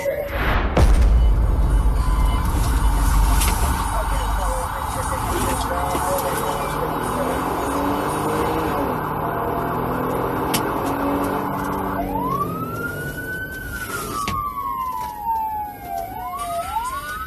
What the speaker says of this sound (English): The officer turned on his emergency lights and siren, initiating a pursuit.